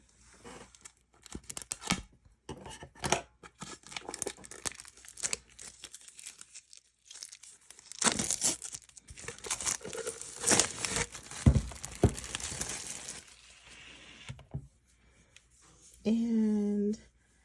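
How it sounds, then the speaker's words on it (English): A package of linerless transfer tape is torn and opened up close, with bursts of ripping, crinkling plastic and paper handling that come and go, and someone speaking between the sounds. "So here's the Linerless transfer tape that I'm going to use for this project. First, I'm going to open it."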